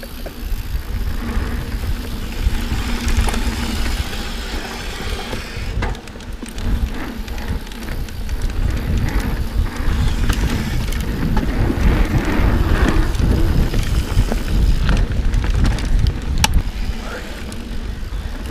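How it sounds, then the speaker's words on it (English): Rain falling on a wooded mountain bike trail at Kingdom Trails, a steady loud patter mixed with wind buffeting and scattered clicks and knocks throughout. "you hear that rain?"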